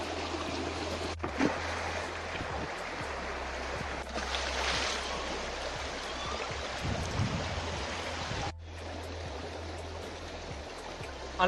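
A river with crayfish flows in a steady, continuous rush, close and fairly loud, with no voices.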